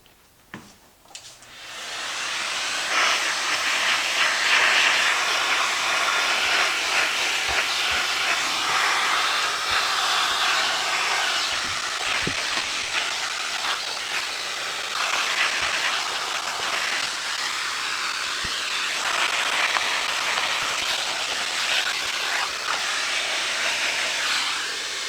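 A household vacuum cleaner runs loud and steady close by, switching on after a brief start and droning continuously with a broad airy hiss throughout, with no talking.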